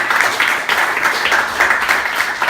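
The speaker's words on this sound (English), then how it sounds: "I think we need to give them another round of applause" Dense, steady applause from an audience at a startup pitch night, many hands clapping together close by for the whole stretch.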